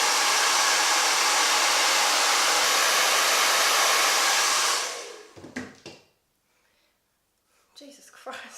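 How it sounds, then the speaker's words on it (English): Hair dryer blowing steadily over lash glue during makeup, a loud close rushing hiss that cuts off after about five seconds, followed by faint handling noises and quiet murmurs. "I'm going to grab a hairdryer and lightly blow over."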